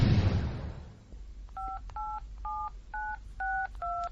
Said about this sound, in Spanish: Intentar llamar a un número extraño y larguísimo.